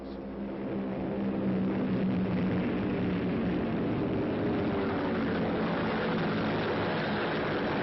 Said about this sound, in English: deadly Focke-Wulfs and Me-109s are on their way to challenge our men and planes